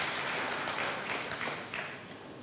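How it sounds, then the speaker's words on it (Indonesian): A church congregation applauds in a brief, dense burst of clapping that fades slightly toward the end, heard at moderate distance in a large room. "Berikan tepuk tangan yang meriah buat Tuhan."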